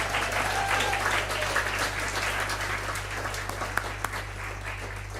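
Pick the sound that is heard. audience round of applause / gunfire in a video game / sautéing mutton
audience round of applause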